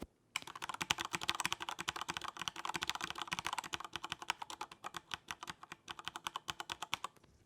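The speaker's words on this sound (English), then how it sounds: "This has reds in it, Cherry MX reds. So let's do a sound test of it." Corsair K95 keyboard with Cherry MX Red linear switches typed on rapidly, dense runs of close keystroke clatter that thin out into slower, distinct taps toward the end, with no voices.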